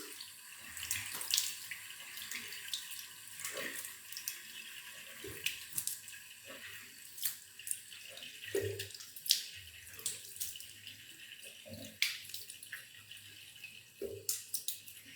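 A tap runs water into a sink while someone washes their face, with intermittent splashes and drips, soft and close, in a quiet room with no talking.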